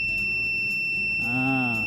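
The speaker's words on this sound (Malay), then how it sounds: "Bunyi macam bunyi siren." A steady high electronic whine from a capacitor buzzer circuit is joined near the end by a rising, wavering siren-like buzz, fairly faint with low background noise.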